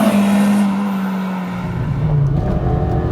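A Peugeot 106 Rallye with a 1.3-litre engine, under 900 kg and under 110 horsepower, revs hard with a loud, close, rising engine note, dipping briefly as it shifts before pulling up again.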